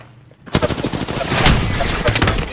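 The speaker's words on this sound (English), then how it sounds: "Shots fired and they're hitting me." Rapid gunfire bursts from an Apex Legends firefight, starting abruptly after a brief quiet and continuing as dense, loud overlapping shots and impacts for a couple of seconds.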